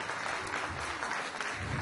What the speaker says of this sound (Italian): Facciamo un applauso per Sasà.